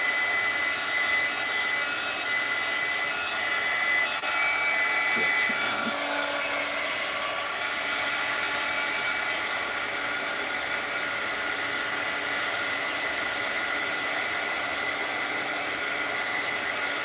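A hair dryer blows steadily to dry glue on an art journal page, a close, loud continuous whine and rush with a brief shift in tone partway through, no talk.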